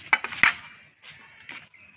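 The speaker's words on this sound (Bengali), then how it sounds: "এখন আমি কাঁঠালের বীজগুলো বাজ্যা নিয়ে ভাজা হয়ে যাইতেছে আমার" Jackfruit seeds being dry-fried in a pan, a few sharp metallic clinks and scrapes of a utensil against the pan, close and brief, then quieter shuffling, with no talk.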